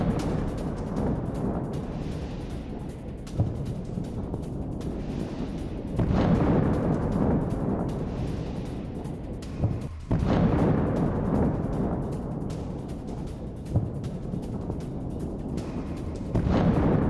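Rumbling blasts and booms from an attack on an army headquarters in Volnovakha, Donetsk, during the Russia-Ukraine war, with a steady low roar punctuated by several heavier thuds at irregular intervals, heard without speech.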